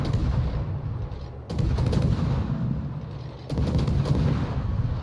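Harugumo destroyer guns firing at a Yamato in the naval combat game World of Warships: two heavy, booming salvos about two seconds apart, each a loud burst that rolls on under continuous low battle rumble.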